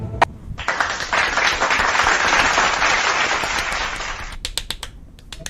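Crisp, close applause plays as a short burst during a livestream of the mobile game Clone Evolution, with a few sharp snaps or claps before a dense clapping stretch, then scattered claps fading out.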